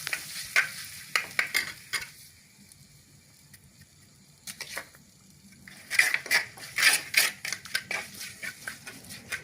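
Tomato mixture is stirred in a frying pan, a spoon scraping and clattering in uneven bursts over a soft sizzle, with a quieter pause midway before brisk stirring resumes.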